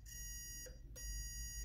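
A multimeter's continuity test beep sounds steadily, briefly breaks off for a moment, then resumes at the same pitch, fairly quiet.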